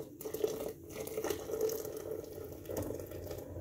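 Tea pouring into a container in a kitchen of a 1986 mobile home, a steady close liquid stream running for a few seconds with small splashy fluctuations and no talking.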